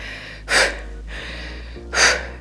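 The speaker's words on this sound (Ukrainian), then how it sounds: "Видих." Forceful breaths out during a resistance-band strength workout for back, shoulders and arms, two sharp close breathy bursts about a second and a half apart over a low steady background hum.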